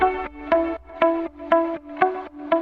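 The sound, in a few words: guitar loop following the melody, with sidechain and reverb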